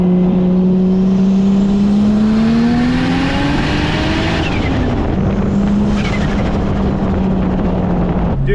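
A 600hp MK4 Supra roars loudly from inside the car as it accelerates, the engine note climbing through the gears with a steady rising drone and shifts, and no talk.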